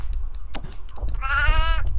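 Goat bleating in the horror video game Devour, a loud wavering cry near the end of the clip over low rumbling game ambience and faint scattered noises.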